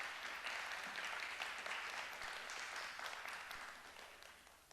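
Sustained applause from a religious gathering, offered to the Lord, fairly distant and soft, tapering off near the end.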